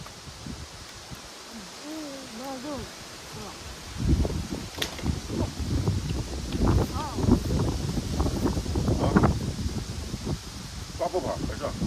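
Strong gusty wind buffets the microphone in rough, uneven roaring bursts at a windy spot near the border at Wenquan County, Xinjiang, after an opening stretch with a bird chirping and a voice speaking.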